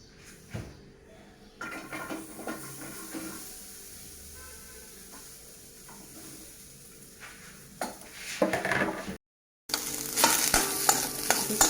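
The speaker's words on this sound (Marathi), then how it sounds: "आणि आता आपल्याला या भांड्यामध्ये थोडा कांदा, लसूण आणि आलं सगळं एकत्र भाजून घेऊया।" Onion, garlic and ginger dry-roast in a pot, stirred with a steady scraping sizzle that grows louder and busier toward the end after a brief pause.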